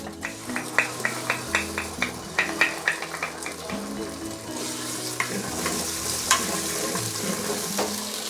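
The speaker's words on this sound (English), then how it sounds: "there are a few things we want to saute" Spicy broad bean paste and tomato sauce sauté for a beef stew, a loud crackling sizzle with a rapid run of spatula scrapes against the wok early on, easing into a steadier fry with a few later knocks.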